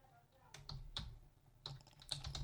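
Typing Python code on a computer keyboard, a quick, uneven run of close, crisp key clicks in small bursts with short pauses, heard alone.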